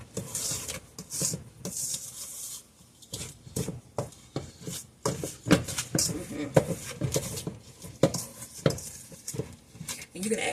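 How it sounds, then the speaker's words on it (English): Oatmeal creme pie batter being mixed in a bowl, with an irregular run of scraping, knocking and stirring noises from a utensil against the bowl and occasional talk alongside. "Mix everything good."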